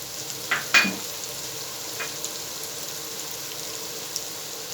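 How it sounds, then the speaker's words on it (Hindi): Spices fry in a pan for beef brain curry, a soft steady sizzle with a couple of brief stirring clinks early on, no voices. "इसको 10-15 सेकंड भून लें।"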